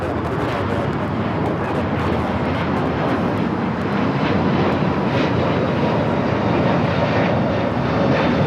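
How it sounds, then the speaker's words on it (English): A United Airlines Airbus A321neo bound for Denver takes off at Los Angeles airport, its powerful jet roar steady and loud throughout, with faint talk underneath. "This is United Airlines 311 taking off to Denver on the A321neo."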